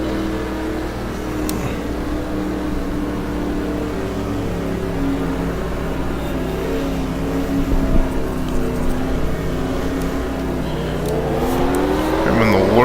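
Stock car engine in NASCAR Racing 2003 at Talladega Super Speedway, a steady loud drone held throughout with slight rises in pitch near the end, running continuously without pauses.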